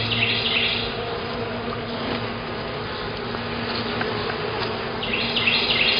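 Honeybees buzz in a steady, dense hum throughout a beehive inspection, close and continuous with no talking.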